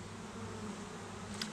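Honeybees hum steadily at a hive during a beekeeper's swarm-season inspection, a dense, continuous buzz close by with no voices over it.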